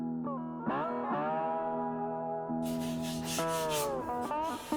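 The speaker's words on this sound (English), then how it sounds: "we let every little stroke of sandpaper tell a story that wasn't there originally" Sandpaper rubs by hand over a guitar body being aged, the soft scratchy strokes rising under a sustained, effects-laden electric guitar chord that rings throughout.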